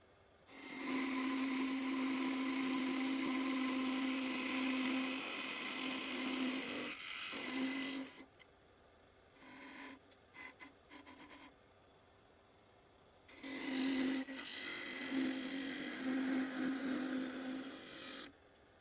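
A woodturning lathe spins as a wooden chess pawn is parted from its base, producing a loud, high whine for several seconds. Quieter scraping follows, then the whine returns near the end.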